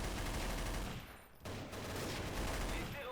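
Automatic machine gun fire in Counter-Strike, a loud, dense burst of rapid shots that breaks off briefly for about half a second before resuming, with no talking.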